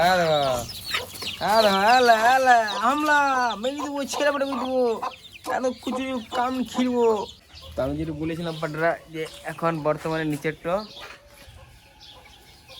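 Chickens cluck in a chicken coop at a house, with repeated close, loud calls in bursts. A person speaks briefly among them.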